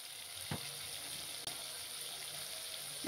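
Cut potatoes sizzle in a pan of oil with turmeric, giving off a faint, steady frying hiss with a few soft clicks.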